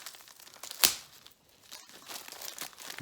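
A sharp rip sounds once, close up, as a plastic parcel bag is cut open, followed by soft crinkling and rustling of thin packaging.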